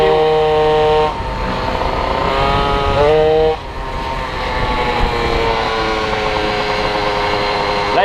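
A Peugeot 103 moped with a 70cc liquid-cooled Malossi kit accelerates hard, its buzzing two-stroke engine rising in pitch through gear changes, loud and close alone.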